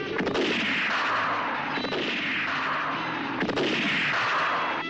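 Gunfire in a film trailer for the western Sabata, with repeated heavy rifle or artillery-like blasts in roughly regular bursts about every one and a half seconds, loud and dense with no talking.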